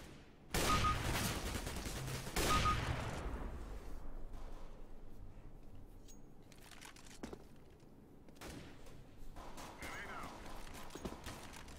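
Gunfire in the online shooter CS:GO, with two loud sharp bursts early on followed by scattered fainter shots and clicks, while a voice talks over the game in the background.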